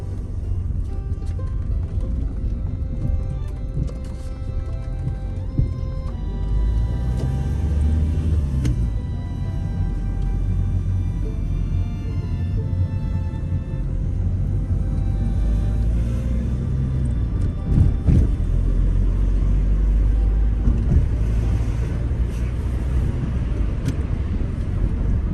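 A 2008 Kia Ceed LS estate pulls away in first gear and keeps driving, its engine rumbling low and steady under continuous road and cabin noise heard from inside, with no talking.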